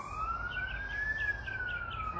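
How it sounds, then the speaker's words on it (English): An emergency vehicle siren wails as a single steady, slowly rising and falling tone, moderately distant and continuous with no one talking, during an outdoor live-streamed post-run yoga practice. "I could not have timed that siren any better."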